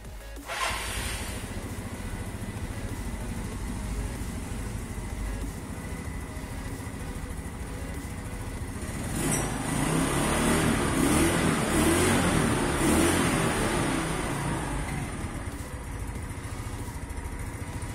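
A Yamaha Mio Soul scooter's small engine runs steadily at idle, then revs up for a few seconds around the middle before settling back to a steady idle.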